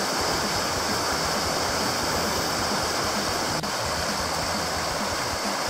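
Mountain river on the Te Araroa trail near Greenstone Hut rushing over stones, a steady, loud broadband roar of flowing water throughout with no voices.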